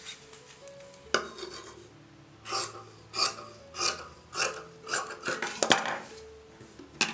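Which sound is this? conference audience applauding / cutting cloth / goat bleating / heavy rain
cutting cloth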